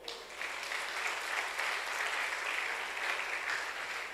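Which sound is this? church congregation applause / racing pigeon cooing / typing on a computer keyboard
church congregation applause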